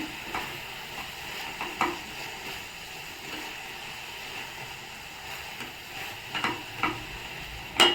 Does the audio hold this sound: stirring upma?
yes